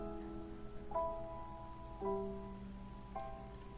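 Steady rain patters throughout a scene in the game Along the Edge, a soft continuous hiss beneath three sustained musical chimes that sound roughly a second apart.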